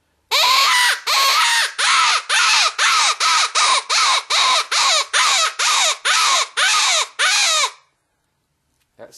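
A homemade reed game call meant for fox is blown in about fifteen quick, raspy, crow-like squalls in a steady rhythm, loud and close, then stops into silence.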